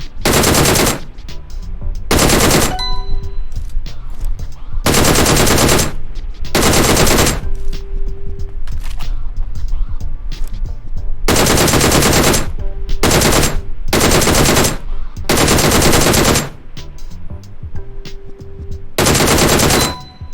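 Rapid bursts of automatic gunfire from a DP and an M16 in the mobile battle-royale game PUBG Mobile, firing in repeated loud volleys of one to two seconds separated by short pauses, close and dominant throughout.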